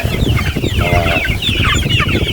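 A flock of chickens clucking and squawking close by, busy overlapping calls that continue without pause.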